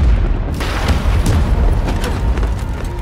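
Cartoon dynamite exploding in an animated fantasy series, a loud sustained rumbling blast with rolling booms and crackling bursts filling the whole stretch.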